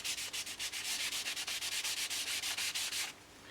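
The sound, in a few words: sanding with sandpaper on model aircraft wing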